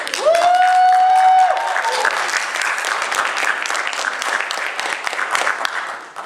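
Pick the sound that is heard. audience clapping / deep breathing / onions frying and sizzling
audience clapping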